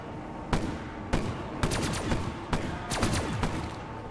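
Haymaker shotgun firing in the Zetsubou No Shima zombies mode of a video game: about six loud, sharp blasts at irregular intervals, each with a short ringing tail.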